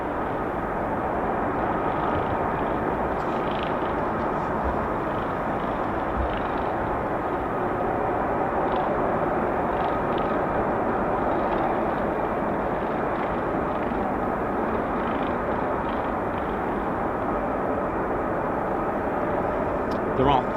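Steady broadband roar of F-35B stealth fighter jet engines near landing pads by a runway, continuous and loud throughout with no breaks, voices faintly present underneath.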